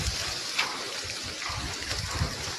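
Water runs from a tap in a home garden among guava and lemon trees, giving a steady, soft rushing splash with faint gurgles throughout.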